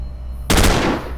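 Gunfire in the sci-fi tactics game Stellar Tactics, heard as a sudden, loud, brief rapid burst that cuts in over a low hum and quickly trails off.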